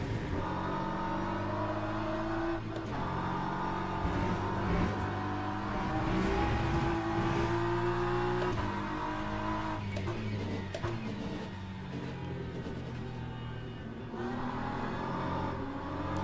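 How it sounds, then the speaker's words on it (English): A McLaren GT3 race car in the Le Mans Ultimate racing game, its engine droning and rising through gears with shifting revs, steady and fairly close, heard without talk. "The McLaren is coming."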